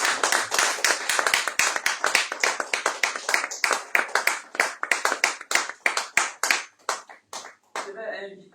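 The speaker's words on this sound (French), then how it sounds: "Est-ce que quelqu'un peut encore acclamer le Seigneur?" A church congregation at a Sunday service claps in acclamation, sharp close handclaps in a quick steady rhythm that stop near the end, and a voice then speaks briefly.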